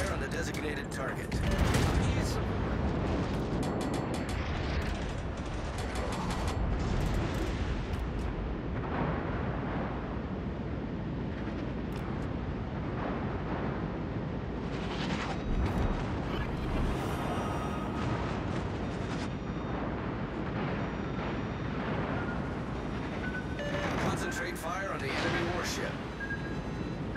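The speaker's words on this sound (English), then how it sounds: "All stations requesting fire on the designated target" Artillery shells hammer a designated target in a video game, a long barrage of heavy booming impacts and rumbling explosions, near and loud, with a voice talking intermittently over the blasts.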